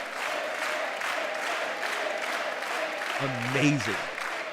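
Audience applause fills a large chamber during the 2024 State of the Union address, a steady wash of clapping throughout with a voice speaking briefly over it near the end.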